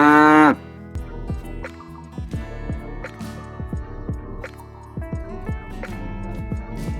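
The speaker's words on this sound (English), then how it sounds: "That's right, it's a cow" A cow lets out one loud, drawn-out moo at the start, followed by a bouncy children's farm-party nursery rhyme tune with a steady plucked beat.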